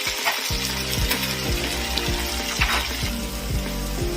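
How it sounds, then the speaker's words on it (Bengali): Spice paste sizzling and frying in a pan for Bengali fish korma, with a steady crackling hiss and regular scraping strokes of a spoon stirring the masala, close and continuous. "মশলাটা কষে নিই"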